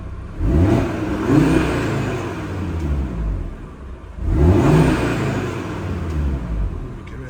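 Audi TT RS TFSI Sport Edition coupe, petrol S tronic quattro, revved hard twice from idle, each loud exhaust blip climbing then falling back to a steady rumble, up close with no talking.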